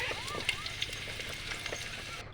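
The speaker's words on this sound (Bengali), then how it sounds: "সেখানে আমি তেল দিয়ে দিয়ে দিলাম তারপর কালো জিরে শুকনো লঙ্কা এবং রসুন দিয়ে ভালো করে নাড়াচাড়া করে নিলাম" Black cumin, dried chilli and garlic sizzling in oil in a clay pot, a soft continuous fry with light stirring scrapes and a faint background hum, no talk.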